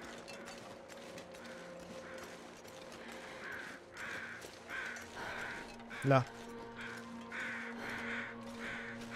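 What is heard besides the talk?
crows cawing in the video game The Long Dark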